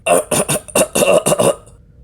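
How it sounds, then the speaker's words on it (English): Harsh fit of repeated coughing from a person close by, seven or eight rapid rasping bursts in quick succession that trail off into silence. "How long have you had that cough?"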